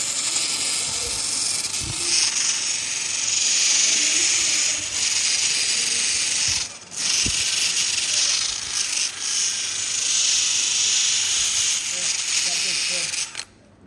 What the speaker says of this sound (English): Maybe the wire brush on the drill.